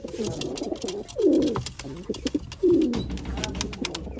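Pigeons coo nearby in low, throaty bursts, two of them prominent, with scattered clicks and shuffling sounds around them.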